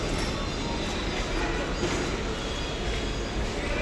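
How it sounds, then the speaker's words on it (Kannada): A metro train runs on an elevated track above a bus stand in Hyderabad, a steady loud rumbling roar of wheels on rail that fills the whole stretch without letup. "ಮೆಟ್ರೋ ಹೋಗ್ತದೆ ಮೇಲೆ, ಏನೋ ಬಸ್ ಸ್ಟಾಪ್ ಪಕ್ಕದಲ್ಲೇ ಮೆಟ್ರೋ ಇದೆ"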